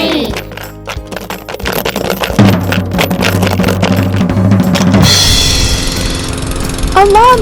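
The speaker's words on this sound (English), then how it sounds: "A lawnmower." A cartoon-style lawn mower engine chugs in an animated children's video, a rough buzzing hum in the middle that gives way to bright music at the end.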